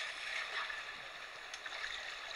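Rushing water of a waterfall being climbed in a Zelda video game while wearing Zora armor, a steady broad splashing roar, soft and continuous.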